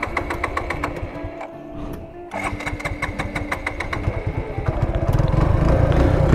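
A Suzuki Gixxer Monotone motorcycle single-cylinder engine cranking and catching, a rapid close mechanical chatter that briefly dips before settling into a steady, louder idle, with no talk over it.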